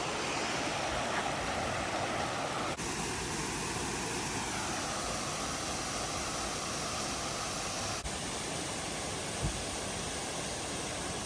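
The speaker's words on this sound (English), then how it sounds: "A nice little waterfall rolling down the side of the trail." A small trailside waterfall on the Appalachian Trail near Amicalola Falls in Georgia rushes steadily, a broad, even hiss of falling water with no voices and only a faint bump or two.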